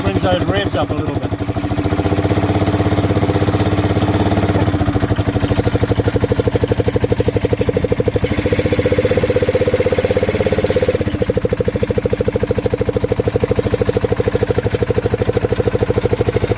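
A Polaris ATV engine with a severe engine braking issue revs up briefly, then settles into a steady, loud mechanical drone with a rapid pulsing beat, heard up close under a voice.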